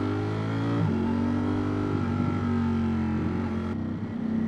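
Ducati Streetfighter V4S 2024 motorcycle engine lugging at low revs while riding, a steady close rumble with a harmonic drone that shifts slightly in pitch, with wind noise and no talk.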